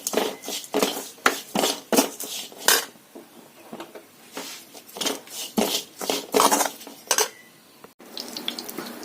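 Grated coconut stirred with chili powder and turmeric in a pan, heard as repeated close scraping and clattering strokes of a spoon against the cookware in an uneven rhythm.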